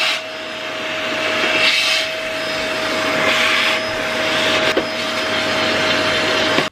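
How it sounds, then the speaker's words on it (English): A vacuum cleaner roars loud and close as it sucks under a drawer and into a narrow gap, a continuous drone with rubbing, scraping surges as the nozzle moves, and no voices. "I'm just going to vacuum under the drawer and in this little gap as well"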